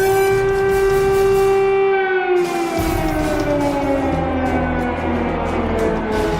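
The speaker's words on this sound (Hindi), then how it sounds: "क्रेमलिन, मॉस्को के चप्पे चप्पे में इमरजेंसी सायरन।" Loud civil defense emergency sirens wail across Moscow, a sustained rising-and-falling tone with layered harmonics that slowly droops in pitch, filling the whole stretch without talk.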